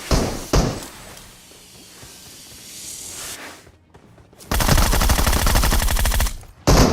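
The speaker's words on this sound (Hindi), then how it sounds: "अब यहाँ पे पीछे की साइड से फायर हो रहा था" Automatic weapon fire in the mobile shooter BGMI (Battlegrounds Mobile India), a loud, close, rapid rattle of shots in a sustained burst after a quieter stretch, ending with another short blast.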